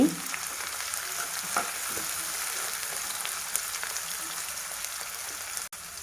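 Onions sizzle steadily in a pan with salt for a Telugu-style chicken fry, a dense, continuous frying hiss with occasional stirring scrapes, close and fairly loud.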